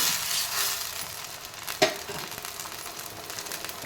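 Garlic and tomatoes frying in oil for a tomato chutney give a steady, close sizzle, with a single sharp clack of the utensil midway through.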